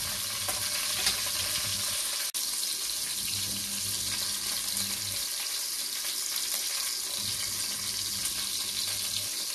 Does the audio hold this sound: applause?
no